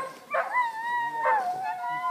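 Hunting dogs at quail and duck field trials howl and whine in drawn-out, wavering cries, two rising wails close by with whimpering between them.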